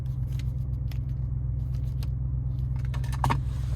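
Close by, an Audi RS6 key fob in a protective cover is handled, giving a few light clicks and small jangling rattles over a low, steady hum.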